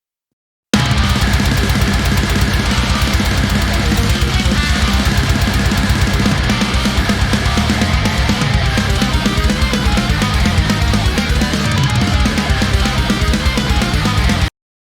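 Heavy metal bass from the Submission Audio DjinnBass library sits in a dense, loud full-band mix, droning steadily and continuously from start to finish with no talk.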